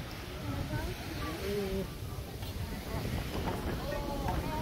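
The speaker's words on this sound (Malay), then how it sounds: "Angin kuat ni." Strong wind buffets the microphone with a steady low roar at Palawan Beach, Singapore, while voices talk faintly in the background near open water.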